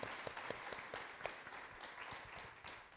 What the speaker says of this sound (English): If you could give the mayor a round of applause.